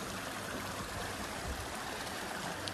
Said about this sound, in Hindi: ये देखो पानी यहाँ से जा रहा